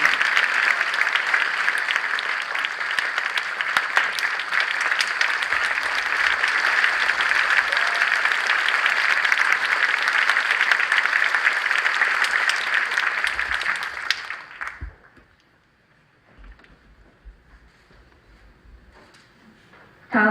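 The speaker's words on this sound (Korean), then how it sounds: "박수로 축하해 주시기 바랍니다." A church congregation applauds newly ordained elders at an anniversary ordination thanksgiving service, sustained loud clapping for about fourteen seconds before it cuts off abruptly into near silence with faint room noise.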